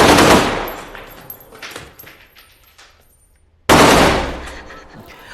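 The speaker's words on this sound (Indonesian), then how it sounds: "mendengar suara tembakan dan langsung bersembunyi di dalam lemari" Loud bursts of gunfire, one at the start and another after a pause, each decaying into echoing rumble, like a shootout in a film.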